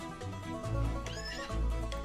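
A mustang neighs in the Old West video game Outlaws of the Old West while caught on a lasso, two loud, close whinnies over low rumbling game sound, with faint hoof clopping.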